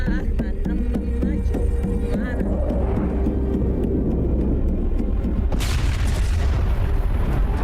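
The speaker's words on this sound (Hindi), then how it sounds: "उधर बम धमाका हुआ है" A bomb blast in a dubbed Hollywood action film lands as a sudden loud boom with a bright burst near the end. Before it comes a dense rumbling mix with voices under it.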